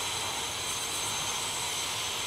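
An aircraft engine roars at takeoff in a video game, as an A-10 jet in a Blackhawk Rescue Mission game. The roar is loud, steady and close, and continues alone.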